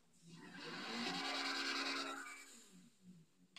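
A powerful video game sports car engine roars and revs up, swelling to a loud sustained whine before easing off near the end.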